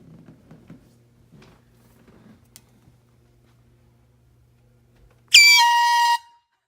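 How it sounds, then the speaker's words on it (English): An air horn blasts as a prank, one loud, sustained honk of about a second that ends abruptly, following several seconds of near silence with faint shuffling and quiet footsteps. "So I'm just gonna take off the honk, the air honk"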